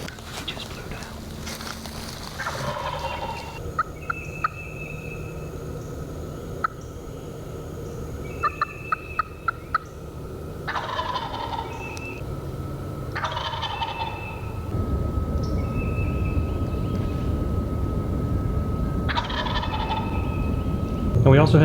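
A wild turkey gobbles repeatedly in loud bursts, spaced several seconds apart, while the low rumble of a passing train builds and continues underneath in the later part.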